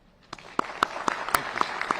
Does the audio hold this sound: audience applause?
yes